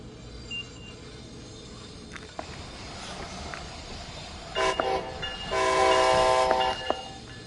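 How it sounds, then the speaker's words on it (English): An American train passes at a distance, a low steady rumble of rail cars under the ambience, with two brief horn blasts late on, the second held longer and louder. "Do gotta love American trains."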